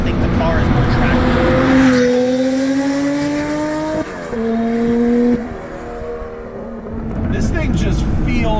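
A 1975 Porsche 911 Carrera Turbo engine accelerates while driving, a loud, close drone climbing in pitch, dropping at gear changes and climbing again, with someone talking over parts of it.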